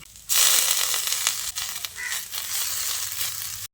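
Chopped, washed drumstick leaves drop into a hot pan and set off a sudden loud, hissing sizzle that keeps crackling steadily, with a few stirring knocks, close and without talk.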